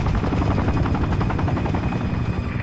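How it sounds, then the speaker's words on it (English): An enemy helicopter in the video game Sniper Ghost Warrior 2 drones loudly and steadily, its rapid rotor thumping and engine whine filling the scene without speech. "Enemy chopper!"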